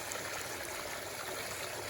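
Water runs steadily through gold concentrator matting, a constant close rushing trickle with no voices.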